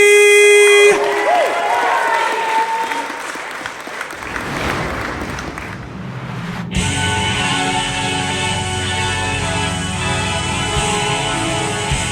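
A live audience at a televised talent show semi-final bursts into loud, sustained applause and cheering after a host's announcement, with a crowd roar filling the room and horn-like blasts ringing out partway through.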